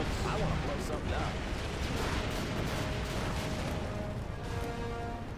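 Explosions and artillery fire from a real-time strategy game, a USA Marine faction against AI tanks, booming in dense overlapping bursts amid a busy mix of battle noise and short unit voice lines.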